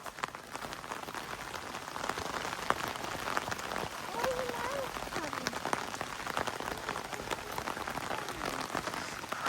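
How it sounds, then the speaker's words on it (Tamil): Heavy rain pours steadily on a forest trek near the Triberg waterfalls in the Black Forest, a dense constant hiss throughout with faint voices now and then. "மழை ரொம்ப ஜாஸ்தியா வருது."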